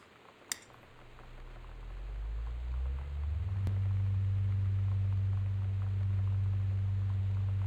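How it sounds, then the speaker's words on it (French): A ventilation fan in the video game Gone Home spins up after a click, its low steady hum rising over a few seconds and then holding loud and constant, with no voices. "Non mais même le ventilo il fait peur quoi"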